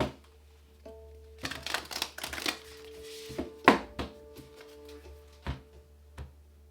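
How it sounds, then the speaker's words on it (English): Tarot cards are shuffled up close: crisp riffling taps and slaps in uneven bursts over a faint steady hum, with no talking. "Okay, one more shuffle."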